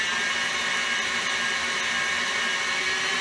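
An electric mixer whips homemade body butter in a steady, close whir that holds unchanged for about three seconds, with no one speaking.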